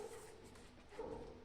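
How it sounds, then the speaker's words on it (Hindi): Dog barking faintly indoors, a couple of short yips over a low, muffled room background. "डॉगी ऐसा भौंकता है ना, बहुत ही ज्यादा परेशान कर देता है वो हमको"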